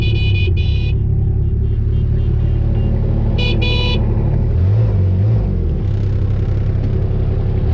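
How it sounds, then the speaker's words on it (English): A Kubota vehicle horn on a Western Australian sheep farm gives two short, loud honks, one at the start and another a few seconds later, over a steady low engine rumble. "Kubota's horn's back."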